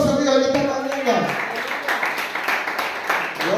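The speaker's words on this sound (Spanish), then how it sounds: "Un aplauso a Dios en esta mañana." A church congregation applauds during a Spanish-language service, a bright wash of clapping that rises after an opening stretch of sung or spoken voice and continues steadily, with voices mixed in.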